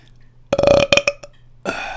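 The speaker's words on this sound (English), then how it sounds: "Morning coffee burp." A loud, close burp after a morning coffee, one long rumbling belch with a few stuttering pulses, followed by a short breathy exhale.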